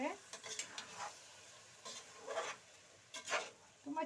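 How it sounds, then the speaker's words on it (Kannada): Raw rice fried in oil for Hyderabadi-style chicken dum biryani, with quiet scraping stir strokes and a soft sizzle returning in short bursts, no voices. "ಇವಾಗ ಅಕ್ಕಿನ ಸ್ವಲ್ಪ ಈ ರೀತಿ ಎಣ್ಣೆಯಲ್ಲೇ ಫ್ರೈ ಮಾಡ್ಕೊಳ್ಳಿ ಅಕ್ಕಿನೂ"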